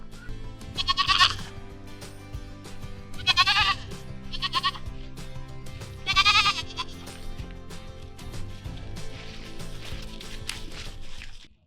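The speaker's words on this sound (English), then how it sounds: "goats get to go hang out in the woods before the snow comes" Goats bleating while foraging in a wooded area before winter, three loud separate bleats spaced a few seconds apart over quiet background noise.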